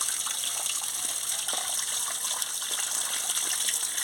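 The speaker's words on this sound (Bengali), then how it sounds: "আলুটা এই যে ধুয়ে নিচ্ছি ভালো করে" Potatoes being washed under running water, heard as a steady, close gush of water from start to finish, with light splashing and no talking.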